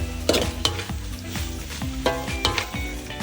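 Pork ribs and curry paste are stirred in a pan for a Thai stir-fried curry with stink beans. A utensil scrapes and clatters against the pan in repeated close strokes over a steady frying sizzle, with no talking.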